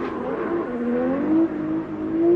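A heavy drift race car's engine drones and winds down as it slows after a high-angle drift run, a steady mid-distance tone that sags in pitch and then rises slightly at the end.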